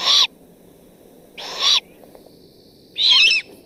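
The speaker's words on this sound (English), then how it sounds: "here's another little snippet of babies begging for food" Baby great horned owls beg for food in three loud, raspy screeching calls, each well separated by quiet pauses against faint background hiss.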